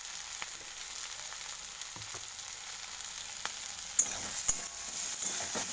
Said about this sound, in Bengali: তো আমি ভালোভাবে